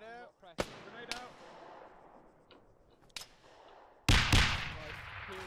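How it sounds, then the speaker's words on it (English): A hand grenade bursts loudly and close in Arma 3, during a pre-WW2 infantry clearing fight, following a few scattered sharp gunshots and faint voices. "Grenade out!"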